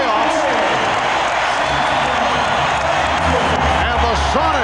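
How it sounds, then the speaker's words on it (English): A basketball arena crowd at the 1996 NBA Finals, Chicago Bulls versus Seattle SuperSonics, giving a standing ovation. Loud, dense cheering and applause roll on steadily while an announcer talks over it. "A standing ovation as both clubs head back to their locker rooms"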